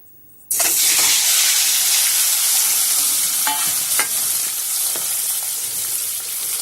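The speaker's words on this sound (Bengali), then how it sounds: "এবারে আমি ডিমগুলোকে এর মধ্যে ছেড়ে দেব।" Eggs dropped into hot oil in a pan sizzle loudly and steadily from the moment they hit, a close, continuous frying hiss with a few faint clinks, no talking.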